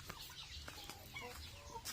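Chickens, including shamo gamefowl, clucking softly at a distance, scattered short calls over a low background rumble.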